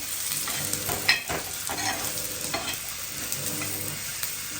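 Ground masala paste of dal, green chillies, onion and fresh coconut roasts in a little oil, giving a steady close sizzle broken by scraping stirs and one sharper clatter, with no voices.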